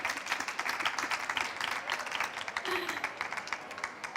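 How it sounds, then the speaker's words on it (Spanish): An audience at a Spanish-language talk on coaching and gender stereotypes breaks into sustained applause, dense steady clapping that fills the room throughout, with a brief voice or cheer rising faintly near the end. "Podéis aplaudir, claro que sí."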